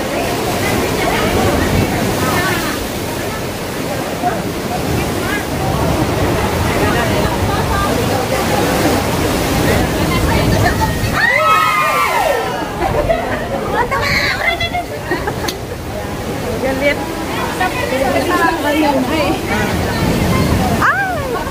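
Ocean waves wash and slosh continuously against rocks at Cape D'Aguilar, a loud steady rush with voices chatting over the top.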